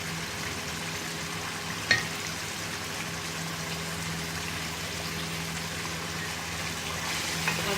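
Beef liver frying in hot oil with green chillies, a constant close sizzle and crackle with one sharp clink of a utensil early on and no talking.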